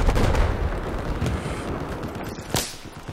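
Gunfire in the video game Battlefield 4, a dense rumble of shots and booming blasts, heavy at the start and easing off, with one sharper crack near the end.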